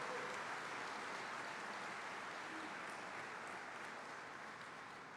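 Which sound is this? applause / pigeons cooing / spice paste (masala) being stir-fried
applause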